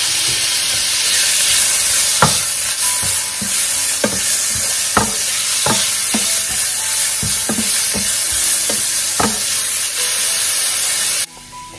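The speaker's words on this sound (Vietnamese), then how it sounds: "Rồi mình bỏ thịt vô xào." Minced meat being stir-fried in a hot pan after garlic and shallots for bánh bột lọc filling, a steady loud sizzle with scattered scraping and stirring clatters throughout, no voices, cutting off near the end.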